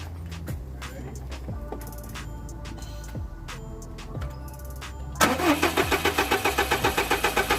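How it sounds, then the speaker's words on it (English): A Subaru STI after a Stage 2 upgrade cranks over with a few starter turns, then catches at about five seconds into a loud, steady idle with a rapid rhythmic pulse, close by and with no one talking. "we'll start the car, let it idle, make sure we don't have any rattles or any issues"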